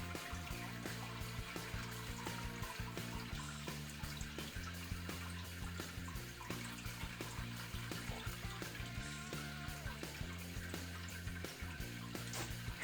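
Sparge water trickles steadily over the grain bed during all-grain brewing of a New Zealand IPA, making a soft, continuous splashing patter with faint regular ticks beneath, quiet and without any talking.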